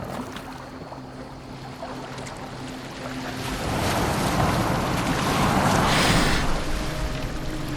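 A boat moving on the water in the game Assassin's Creed Valhalla: a steady wash of waves and wind noise that swells louder and rougher midway through, with no voices.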